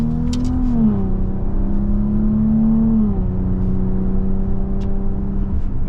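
A 2024 Maserati Levante GT Ultima pulls away on the road, its engine note loud and close, rising steadily before shifting, then continuing to climb.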